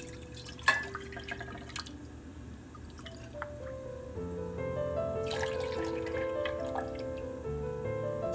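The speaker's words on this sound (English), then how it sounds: "Add 2 cups of whole milk." Whole milk pours into a pot or cup, a faint, quiet liquid stream with a few drips and small splashes at the start, then a steadier filling trickle that rises slightly in pitch.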